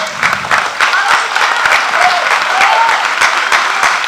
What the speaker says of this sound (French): Un grand tonnerre d'applaudissements pour l'équipe de Gitana.